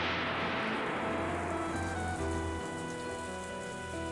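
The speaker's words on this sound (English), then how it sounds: "I heard the sound of raindrops hitting the roof of the car." Heavy rain drums continuously on a car roof in a video game sound effect, a dense, loud, even hiss with a faint low rumble fading underneath.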